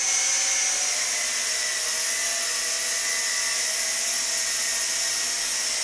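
A small JJRC Ferry pizza-box selfie drone hovers indoors in a garage, its propellers giving a continuous high buzzing whine at steady volume throughout, close and alone with no talk.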